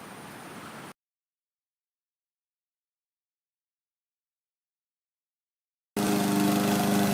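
A lawn mower engine mowing grass gives a steady, buzzing drone that cuts out abruptly into several seconds of silence, then returns loud and constant.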